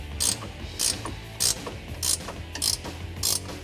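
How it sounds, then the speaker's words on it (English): A 3/4 inch ratcheting wrench tightens a track bar bolt on a 1997-2006 Jeep Wrangler TJ during a lift kit install, six quick bursts of ratchet clicking in an even rhythm, close and alone. "Now we can go ahead and tighten that up with a 3/4 inch ratcheting wrench and an 18 millimeter wrench."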